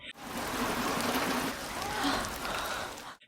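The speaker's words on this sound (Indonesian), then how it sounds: "Keesokan paginya hujan turun dengan cukup lebat." Heavy rain falls steadily and densely, a loud continuous hiss of drops pattering on surfaces close by, with no pause throughout.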